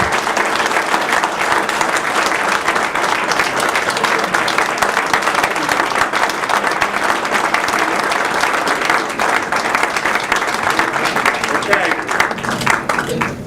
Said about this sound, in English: give Tao Ye a great round of applause